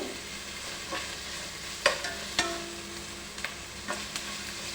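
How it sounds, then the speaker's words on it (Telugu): Tomato pieces frying in hot oil for an egg biryani base, with a steady close sizzle and a few sharp clinks of a stirring spoon against the pan. "టమాటా ముక్కలు కూడా వేసేసి బాగా మిక్స్ చేసుకొని బాగా ఆయిల్లోని బాగా వేయించుకోవాలి"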